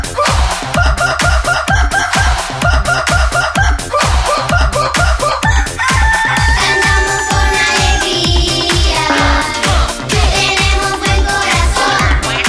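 A rooster crows loudly and repeatedly within a lively children's farm song, the crowing riding over a steady bouncing beat and melody without singing voices.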